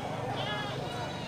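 At a livestock market, a goat bleats in a wavering cry over a dense backdrop of crowd noise and talking voices, fairly close and brief.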